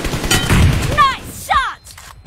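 Rapid gunfire in the PUBG Mobile battle royale game during a competitive scrim, a short burst of shots up front followed by excited voices chattering over game effects.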